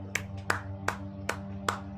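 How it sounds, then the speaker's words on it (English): Five sharp hand claps spaced roughly evenly over two seconds, a short round of applause from one person at moderate distance, heard over a steady low background hum. "I want to give you a round of applause"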